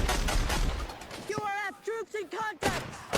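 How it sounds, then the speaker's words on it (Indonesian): Gunfire from a film scene, shots coming from all directions, crackles in dense bursts at the start and end, while a voice talks over the middle section. "pure suara tembakan dari mana-mana."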